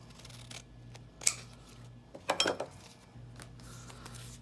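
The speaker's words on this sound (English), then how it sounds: "I'm gonna cut this right here." Sharp, brief scissor snips cut Kraft-Tex paper for a journal, with a couple of quiet clicks and light handling noises in a quiet room.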